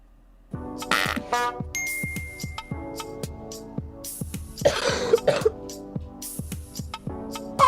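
A girl coughs repeatedly in a rhythmic series of sharp, close coughs, with soft tinkling sounds in the background.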